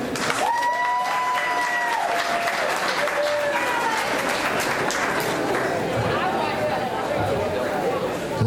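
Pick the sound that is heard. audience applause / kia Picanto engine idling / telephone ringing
audience applause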